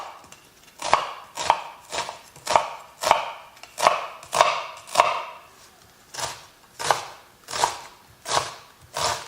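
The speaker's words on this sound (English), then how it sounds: "we're going to chop up the onions" Onions being chopped with a knife on a board: about fifteen crisp, evenly spaced chops in a steady rhythm, close and loud, with no talking.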